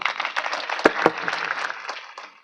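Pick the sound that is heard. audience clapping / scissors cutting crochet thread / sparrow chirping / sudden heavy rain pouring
audience clapping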